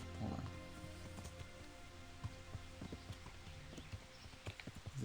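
Steady clip-clop of horse hooves at a walking pace over a continuous background hum in the video game Kingdom Come: Deliverance, the footfalls close and regular.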